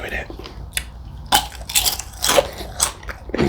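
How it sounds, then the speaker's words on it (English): Crunchy bites into extra crispy fried chicken legs and thighs, several sharp crackling crunches close to the mic in quick succession with chewing between them. "It's extra crunchy, baby."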